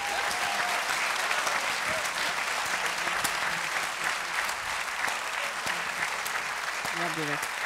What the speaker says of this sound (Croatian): još jednom da aplauzom pozdravite sve ove naše umjetnike